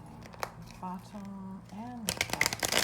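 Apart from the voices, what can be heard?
shuffling tarot cards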